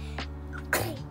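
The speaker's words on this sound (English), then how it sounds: "You got the sneezes today" A single quick sneeze bursts out near the end, preceded by a soft breathy intake, close and fairly loud.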